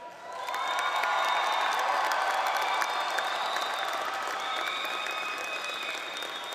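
A large crowd at a community college graduation ceremony applauds steadily, swelling quickly into sustained loud clapping with a few faint whoops and tones over the top, then slowly easing.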